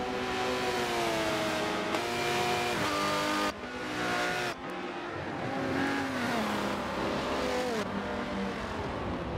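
A Corvette battles an Aston Martin DBR9 in an endurance racing video game, engines roaring loudly and continuously, with shifting revs, gear changes and brief tire noise as one car overtakes the other.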